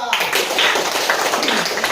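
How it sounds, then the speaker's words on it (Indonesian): A classroom of students gives brief applause for a student group, a dense patter of many hands clapping at close range, with speech heard amid it. "tepuk tangan untuk kelompok 2"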